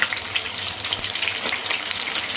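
Batter-coated chillies for mirchi bajji deep frying in hot oil, a dense, close, continuous crackling sizzle with rapid bubbling pops throughout, no voices.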